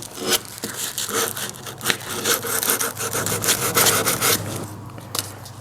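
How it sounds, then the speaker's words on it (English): A rasp and heavy sandpaper shaping the wooden handle of a hand-carved hammer, giving a loud, continuous scraping and rubbing in irregular back-and-forth strokes, close up with no voices. "I'm doing is just using a rasp and heavy sandpaper and put it on like that"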